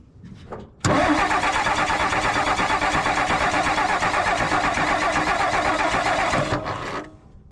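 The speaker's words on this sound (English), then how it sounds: "It might just take a little bit of cranking to get that oil all the way up in." Ford F600 truck engine cranking after an oil change, a loud continuous starter churn lasting about six seconds before cutting off, heard close and alone.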